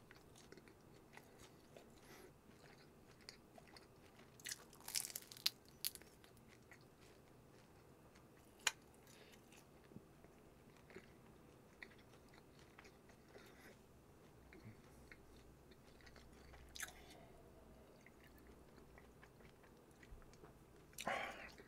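Close-mic crunching and biting on crispy Korean sweet and sour pork (tangsuyuk), quiet with a few sharper crunches scattered through a mostly soft chewing stretch, and faint murmured speech at times.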